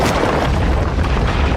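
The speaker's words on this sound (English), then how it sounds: "What does an avalanche of stones being telekinetically thrust up a hill sound like?" A sound effect of stones thrust up a hill: a loud, rumbling roar of crashing debris, heavy and continuous, with a deep booming low end throughout the short burst.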